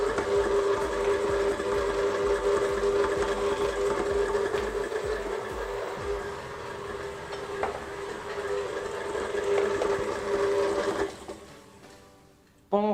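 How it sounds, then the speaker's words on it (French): Electric mixer blending speculoos dough, a steady motor whir with a constant tonal hum and gritty churning running for several seconds, then briefly cutting off near the end. "On met ça sur un appareil qui mélange et on fait ça pendant 1 minute."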